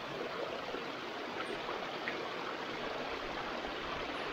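Mountain stream water in the Gabar mountains flowing close by, a steady dense rushing wash with no pauses and no voices.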